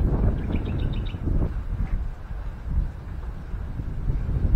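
Typhoon wind gusting steadily across open rice fields in the Philippines, a continuous rough roar that rises and falls, with a few faint bird chirps early on.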